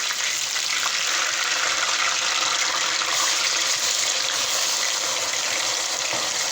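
Two medium onions, finely chopped, sizzling in hot oil over a very low flame, a steady close crackle and hiss running continuously without any voices.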